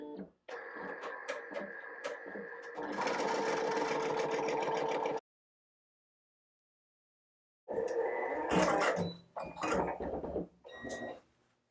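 An embroidery machine stitches a placement outline with a rapid mechanical chatter and rhythmic needle clatter, running loud and close, stopping for a few seconds of silence, then starting again in short bursts.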